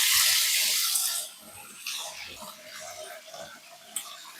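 Hot or cold water runs from a tap into a plastic home brew beer fermenter, a steady hissing rush that starts loud, then drops to a softer continuous flow with a few small splashes.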